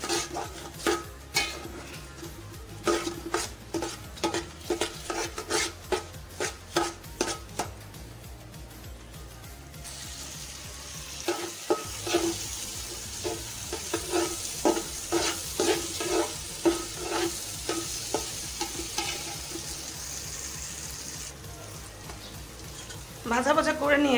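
Pulao rice being stirred and fried in a pan, with a spatula scraping and clinking in steady repeated strokes over a soft, continuous sizzle, close and moderately loud, with a brief pause midway.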